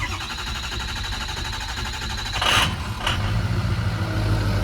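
A white dually pickup truck that has sat for about two weeks cranks at length under a steady mechanical din, then gives a couple of sharp bursts before its engine settles into a low, even idle.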